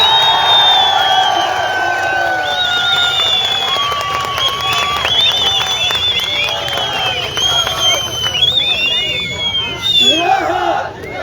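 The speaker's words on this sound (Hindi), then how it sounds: "इस शेरनी के लिए जोरदार तालियों के साथ" A protest sit-in crowd cheers, whoops and claps loudly and continuously for someone speaker, with shouts and voices rising over the steady roar throughout.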